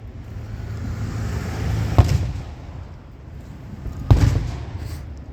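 Fourth of July fireworks going off, two deep booming bursts about two seconds apart over a low steady rumble.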